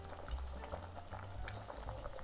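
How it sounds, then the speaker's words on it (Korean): A pot of broth with pork ribs, green onion and kelp boils hard, giving a continuous close bubbling and gurgling with small irregular pops and no voices. "이렇게 버글버글 끓고 있어요"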